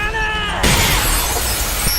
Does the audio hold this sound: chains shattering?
yes